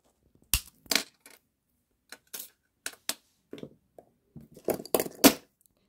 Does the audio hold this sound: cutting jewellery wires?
yes